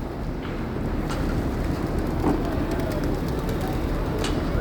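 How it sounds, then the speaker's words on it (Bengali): Jalali pigeons near the Haram coo softly beneath a constant wash of wind and outdoor noise, with no clear talk. "এগুলো কিন্তু জালালি কবুতর।"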